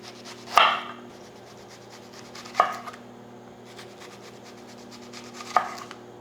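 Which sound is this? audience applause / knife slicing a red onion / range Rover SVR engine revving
knife slicing a red onion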